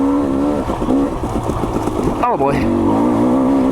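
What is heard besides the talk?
2022 KTM 300 XC-W dirt bike engine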